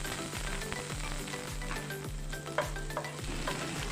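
Finely chopped green chillies sizzle in a pan, a steady frying crackle with rhythmic spoon scrapes and stirring clicks, fairly quiet and without voices.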